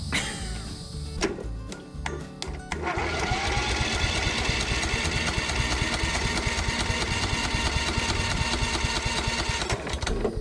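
A Toro zero turn mower engine cranks over after its solenoid is jumped, with a few sharp clicks and brief starts first, then a sustained rapid churning of the starter and engine that runs loud and steady to the end without catching.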